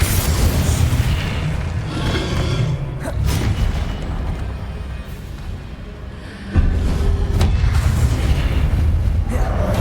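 Confringo spell explosions in the Hogwarts Legacy video game: heavy booms and bursts over a constant low rumble, with a sharp jump in loudness partway through, under game voices and combat noise.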